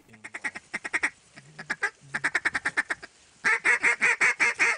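A hunter's duck call blown at wild ducks on public land, loud, aggressive quacking sequences in rapid rhythmic bursts, close and clear, ending in a louder, faster run of calls.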